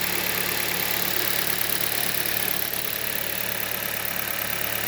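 A Hyundai G4FC engine idles cold after valve and phaser work: a steady, even drone with a faint rhythmic ticking running beneath it, with no voices.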